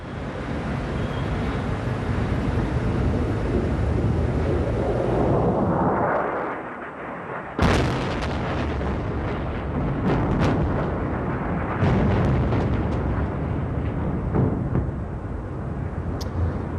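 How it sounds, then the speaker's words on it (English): Explosions from a 2003 U.S. airstrike on Baghdad roll through as a dense, distant rumble, with one sudden heavy blast partway through and rumbling that continues afterward. "I want to show our viewers who may have missed it this latest U.S. airstrike against a target in Baghdad"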